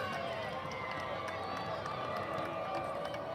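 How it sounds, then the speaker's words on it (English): A crowd at a high school football game, Upper Dublin Cardinals against Bensalem Owls, gives off a continuous broad murmur before a kickoff, steady and fairly distant, with no clear cheers standing out. "Crowd starting to make noise"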